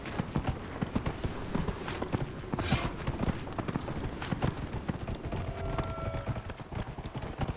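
Hooves clip-clop steadily as a horse is ridden in the fantasy game Dragon Age: Inquisition, a fast, even rhythm of thuds heard without talk.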